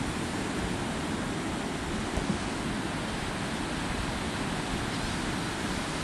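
Steady broadband rush of ocean waves and surf from out on the water, a continuous wash with a windy, even texture and no distinct breaking crashes, heard alone without voices.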